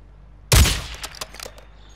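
A single loud, sharp shot from the FJX Imperium sniper rifle in a video game on the Ashika map, followed by a fading echo and a few faint clicks and ticks as it settles.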